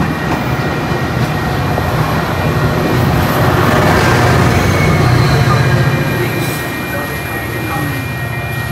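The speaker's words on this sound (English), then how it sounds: "Another train coming." A Metra commuter train arrives at Elmhurst station during the evening rush, a loud, close rumble that swells to a peak and then eases, with a repeated station safety announcement heard over it.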